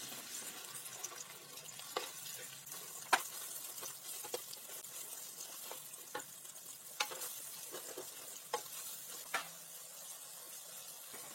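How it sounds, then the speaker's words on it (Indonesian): Blended spice paste for Nasi Padeh sautéing in a pan, a steady soft sizzle broken by occasional clicks and scrapes of stirring. "di sini langsung saya tumis untuk bumbu-bumbunya sampai dia agak wangi dan nggak terlalu basah lagi"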